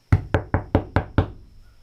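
Six quick knocks on the bare metal wall of a van, loud and close, each ringing hollow like a tin can, with a faint tone in the background and no talk.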